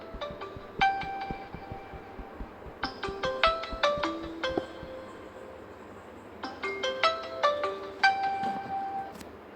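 A phone ringtone plays a bright melodic chime pattern in two repeated bursts, with clear tonal notes rising and falling, heard alone without talk.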